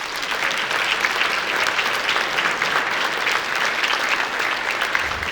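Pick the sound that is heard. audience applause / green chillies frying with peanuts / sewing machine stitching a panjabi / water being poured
audience applause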